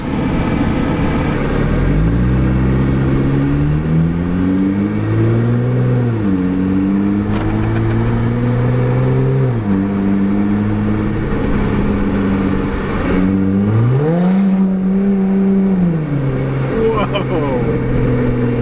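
A Jeep Gladiator's V6 engine revs repeatedly through a DIY exhaust, its deep exhaust note rising and falling in pitch over a steady low rumble, loud and close.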